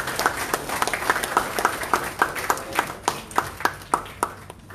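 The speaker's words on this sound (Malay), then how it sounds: "Bagi tepukan sedikit untuk dua kawasan." An audience at a back-to-school programme event claps. The applause is moderately close and thins out into a slower run of individual, evenly spaced claps that fade toward the end.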